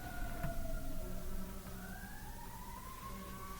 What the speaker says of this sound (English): Listen to them sirens.